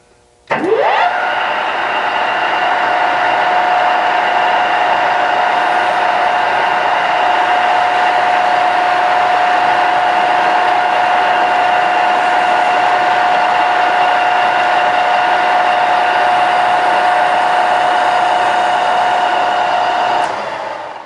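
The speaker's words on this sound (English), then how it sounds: "we've got a pretty good bit of metal to cut off, and that's what we are doing at this point of the muzzle brake installation" Metal being cut off a 16-inch rifle barrel for a muzzle brake install, heard as a loud, steady, close-up mechanical whine that holds for about twenty seconds before winding down, with no talking.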